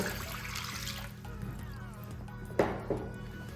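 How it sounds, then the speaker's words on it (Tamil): Water pours into a bowl for bread roll dough, giving a soft close trickle and splash, with a couple of brief knocks against the bowl near the end. "இப்போ என்ன செய்யுங்க த தண்ணியை விடுறீங்க"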